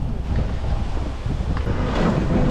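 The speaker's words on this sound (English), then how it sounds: "It's super windy." Strong gusting wind buffets the microphone outdoors on the way to the Fantasy Fest parade, a loud, steady low roar with surging gusts and no speech.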